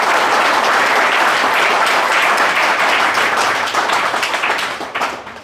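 A hall audience gives loud, sustained applause to welcome guests at a gathering, dense clapping from many hands that holds steady before thinning and fading out at the end.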